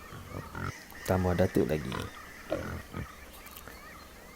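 Grunting from a wild boar, used as a sound effect in a Malay-language audio drama, sits beneath a narrator's speech in short, rough bursts.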